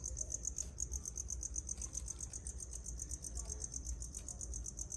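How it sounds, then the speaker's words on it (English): Crickets chirp in a steady, fast pulsing trill that runs through the whole stretch, with a low rumble underneath, heard indoors at a Madagascar hissing cockroach farm. "You can hear the crickets."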